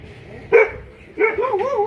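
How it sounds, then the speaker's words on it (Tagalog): A dog outside near a lot in Baguio gives a couple of sharp, fairly close barks, followed by a longer wavering yelp, with low background noise in between. "Grabe ang aso."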